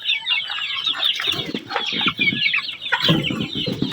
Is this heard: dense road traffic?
no